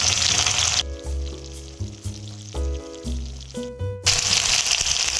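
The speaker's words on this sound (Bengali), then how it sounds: "পেঁয়াজটা যতক্ষণ লাল না হয় আমি এটা ভাজতে থাকবো।" Onions frying in oil for a Bengali gab-leaf dalna, a loud steady sizzle that drops back under a tonal hum in the middle with stirring knocks, then swells again to full strength at the end; no talk.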